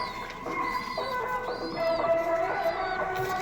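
Andhra and green Kalanka pigeons coo softly and repeatedly close by, with overlapping low calls forming a steady murmur.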